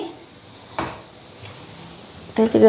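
A container being pulled out of a kitchen cupboard: a single sharp knock, a softer bump later, then a quick clatter as a voice speaks briefly near the end.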